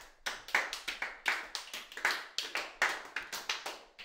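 Scattered applause from a small gathering honoring Brother Mike, with a dozen or so irregular clap bursts of rising and falling intensity, fairly close and without talk.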